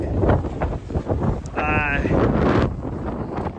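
Strong gusty wind in Great Falls, Montana buffets the microphone in a loud, continuous roar, with a brief whistling tone partway through and a voice talking over it.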